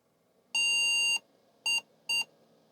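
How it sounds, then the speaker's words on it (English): A Barta computer board with a Kung Fu Flash cartridge for the Commodore 64 sounds its power-up POST beep codes: one long, loud electronic tone followed by two short beeps, clear and isolated in a quiet room. "Okay, different beep codes, but whatever."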